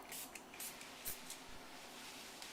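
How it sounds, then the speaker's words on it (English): Granite sealer spritzed from a spray bottle onto a light granite surface and rubbed in with a towel: a few faint, short hissing spray bursts over quiet wiping, with no talking. "all we're going to do is spritz it on and just rub it in with a towel"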